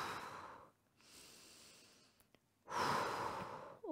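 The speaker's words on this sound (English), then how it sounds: "Keep going with that breathing" Deep, close breathing during a stretch in a kettlebell workout: a long exhale, a softer breath, a quiet pause, then a strong, forceful breath, with no talking.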